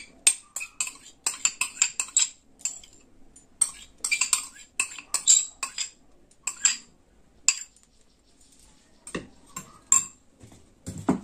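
A metal spoon mixes curd into cooked rice in a bowl, making close, irregular clinks and scrapes in short bursts separated by quiet pauses.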